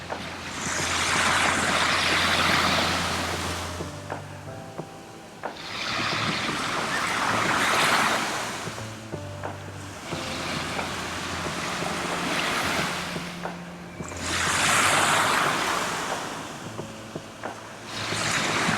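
Ocean waves roll onto the shore in slow surges, each swell rising to a loud rushing wash and then easing back, repeating about every five seconds with some wind noise and a faint low hum beneath.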